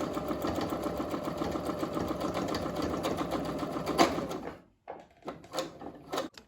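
A sewing machine runs a double stitch across a double-layer fleece scarf, a loud steady rapid whir of needle strokes for about four seconds, then a pause and a couple of short bursts.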